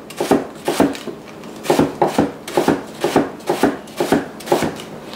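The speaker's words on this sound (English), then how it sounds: "We're going to nicely cut up these leeks over here, and you just want to fine julienne." A knife julienning leeks on a cutting board makes a steady, rhythmic run of crisp chopping taps, about two per second, close and loud with no talk over it.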